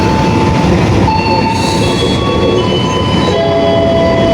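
A Gunung Jati passenger train rolls into platform 4 at Gambir station close by, with steady rumbling, rail noise and high metallic wheel squeals as it slows, loud throughout.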